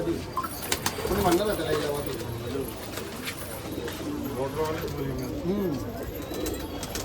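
Allahabadi pigeons coo in low, repeated rolling phrases during a pigeon festival in open air, with people talking over the birds throughout.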